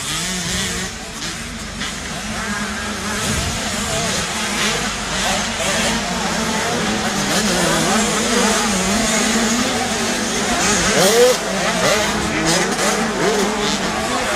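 BW85 motocross bikes racing at Canada Heights during a British Motocross Championship race, a continuous loud engine drone with rising and falling revs, under a commentator's voice.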